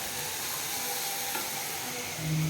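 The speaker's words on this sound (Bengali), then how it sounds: "এইদিকে এই যে লাল শাক ভাজা হচ্ছে" Red amaranth greens fry in a pan as a home lunch is prepared, making a soft, even sizzle that is heard alone and steady throughout, close by and moderately quiet.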